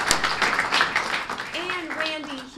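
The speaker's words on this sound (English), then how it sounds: "So let's give them all a great round of applause." A round of applause for students at a high school student-of-the-month event: scattered, uneven claps that thin out as a voice begins speaking over them.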